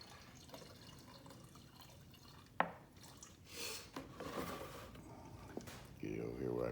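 Clean gasoline is poured for a small two-stroke engine, with soft liquid splashing and dripping, a sharp clink midway, and a heavier pouring stream near the end.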